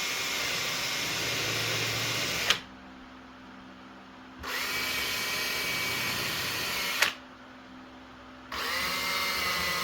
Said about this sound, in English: But get all these holes countersunk.